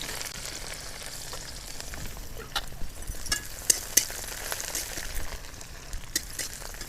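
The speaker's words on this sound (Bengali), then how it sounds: "তেলটা গরম হয়ে গেছে, এখানে আমি দিয়ে দিচ্ছি 2টো তেজপাতা, ধনে পাতা কুচি, আর নিয়েছি লঙ্কা।" Two bay leaves, chopped coriander leaves and chillies frying in hot oil, a soft continuous sizzle dotted with small pops and a few faint clinks.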